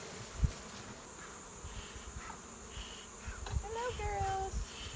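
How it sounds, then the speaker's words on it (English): Honeybees buzz around an opened hive during an inspection, a steady close insect hum with individual bees whining past near the mic, and a few soft knocks and handling sounds. "There's a lot of bees up here"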